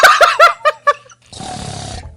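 A snoring sound effect for a video game character, a short rough rasping breath with a noisy, gurgling texture, preceded by a few loud, clipped vocal bursts.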